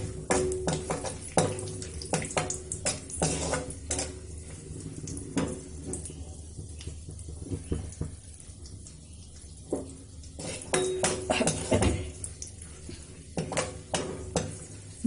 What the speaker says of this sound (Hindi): घी में हम काजू और बादाम को भी सेक लेते हैं।